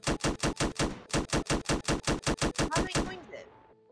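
Rapid bursts of video game gunfire, about fifteen sharp evenly spaced shots in two runs with a short gap, loud and close, ending in a fading rattle and faint clatter; no speech over it.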